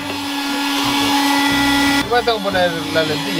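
A vacuum cleaner runs loudly indoors inside a motorhome, a steady whining drone that continues throughout while someone speaks over it.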